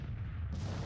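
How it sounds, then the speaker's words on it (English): Enemy guns pound the troops in the Civil War strategy game Grand Tactician, a quiet, steady low-pitched rumble of far-off cannon fire that carries on without a break and without speech. "Getting pounded by enemy guns."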